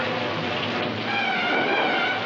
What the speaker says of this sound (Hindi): पानी बरसने लगा